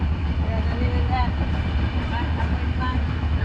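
A passenger train running along its tracks, heard from on board as a steady low rumble with faint squeals and rattles and no clear rhythm, under light background voices.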